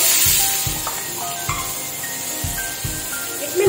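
Garlic, ginger and onion fry in a pan, a soft sizzling hiss broken by repeated low thumps and scrapes of stirring, fairly quiet and close, with no talk.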